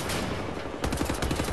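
A marksman's rifle firing in Wolfenstein: The New Order. After a dull stretch of noise, a quick run of sharp shots cracks out in an uneven rhythm. The shots are loud and close and pack into a short burst.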